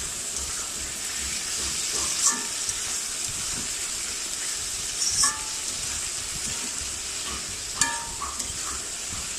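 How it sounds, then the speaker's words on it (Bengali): Potatoes frying in oil give a moderate, continuous sizzling hiss. Short clinks from the utensil or pan come through now and then, and no one speaks. "কয়েকক্ষণ ভাজা হয়ে গেলে আলুগুলো দিয়ে দিব আলুগুলো ভেজে নেব"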